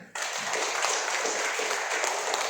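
An audience bursts into applause after a brief quiet moment, many hands clapping loudly and steadily until the end.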